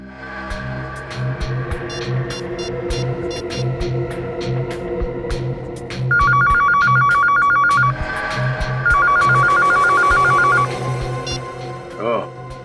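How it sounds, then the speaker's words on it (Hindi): A telephone rings in two long electronic trilling bursts, loud and clear, over a background of talk and a low rhythmic hum. "जरा उस नंबर पे फोन लगा।"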